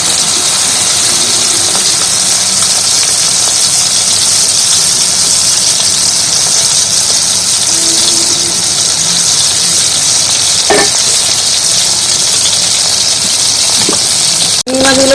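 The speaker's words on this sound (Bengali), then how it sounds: "চিংড়ি তো ভালো করে ভেজে নিচ্ছি" Prawns frying in a pan make a loud, continuous hiss and sizzle throughout, with a few faint clinks and a brief voice near the end.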